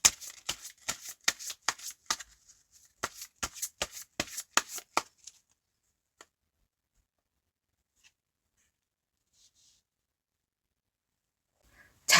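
Tarot cards are shuffled and drawn in a rapid run of crisp riffling snaps for about five seconds, then near silence broken by a few faint card taps.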